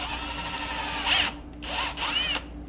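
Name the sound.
drill widening a hole in plastic part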